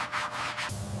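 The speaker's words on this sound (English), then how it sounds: "Wet sanding slowly, milky water trails." Painted car body panel of a 1964 Aston Martin DB5 being wet sanded, heard as a few quick close rubbing strokes that swish back and forth.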